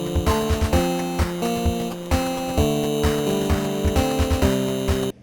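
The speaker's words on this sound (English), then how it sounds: "So that's kind of like a fireworks sounding snare that just kind of goes off like." Snare drum that sounds like fireworks cracks out in rapid, crackling bursts over sustained piano chords as the percussion returns in a music track, loud and busy, with no voices.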